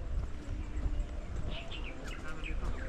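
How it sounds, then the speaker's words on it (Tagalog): Birds sing along a hiking trail on the way to Hac Sa Beach in Macau. Faint, short chirps arrive in a quick cluster over steady outdoor rumble and footstep noise. "Naririnig nyo guys yung huni ng ibon."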